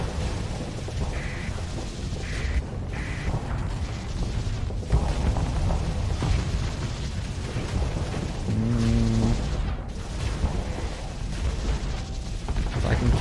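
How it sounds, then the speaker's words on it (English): Spaceship weapons fire in the video game Starsector, a continuous loud barrage of booming blasts and crackling impacts with brief tonal chirps and beeps layered over the steady roar of combat. "So I will go in this mess and start firing"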